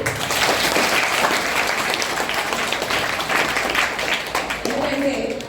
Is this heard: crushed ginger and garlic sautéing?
no